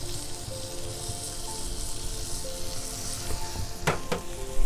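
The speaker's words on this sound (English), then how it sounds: "And we're going to give it a quick stir." Green peppers and tomato sauce sizzle in a hot pan, with a steady loud frying hiss and a few sharp scrapes of stirring near the end.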